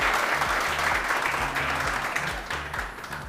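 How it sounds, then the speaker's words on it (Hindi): Studio audience applauding steadily on a Pakistani TV morning show, a dense close clatter of many hands that holds for the whole stretch and tapers a little at the end, with a low hum underneath. "सबसे पहले तो आप लोग तालियां बजाना शुरू कीजिए"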